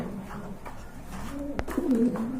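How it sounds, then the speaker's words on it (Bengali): Large Baghdadi Huma pigeons kept as a pair in a cage coo in low, throaty, rolling calls nearby, growing fuller toward the end, with a sharp click in between. "এখানে দেখতে পাচ্ছেন কিন্তু আরেক জোড়া কবুতর"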